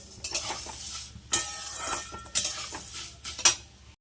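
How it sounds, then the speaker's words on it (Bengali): Maggi noodles fry in a pan as a metal utensil stirs them, making a few sharp scraping clinks against the metal over a soft, low sizzle. Close by, with no voices. "এই যে দেখো ম্যাগিগুলোকে একদম পুরো লাল লাল করে ভেজে নিয়েছি"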